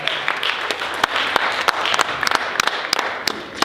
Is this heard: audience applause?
yes